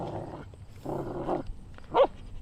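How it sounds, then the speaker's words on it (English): A puppy makes soft, muffled whimpering and yipping sounds in short bursts close by, with one sharper yip near the end, over a quiet indoor background. "I'm being attacked by a puppy with my feet."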